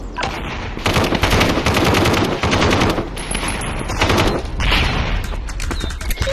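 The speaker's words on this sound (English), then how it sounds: "Come on, headshot with a pistol." Rapid gunfire rattles through a firefight in the VR shooter Aim XR, dense automatic bursts mixed with pistol shots, loud and continuous with near and distant volleys overlapping throughout.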